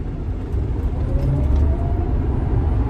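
A 2018 Tesla Model X 75D electric car accelerates at full power, giving a steady, low road rumble and tire noise that builds smoothly, with only a faint rising whine and no engine roar.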